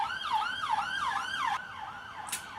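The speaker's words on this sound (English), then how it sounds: "The ambulance sound, because it can't be a freaking video without one." An ambulance siren passes outside, its wailing tones rising and falling in repeated sweeps, fairly loud at first, then shifting to a slower pattern as it moves on, with no talking.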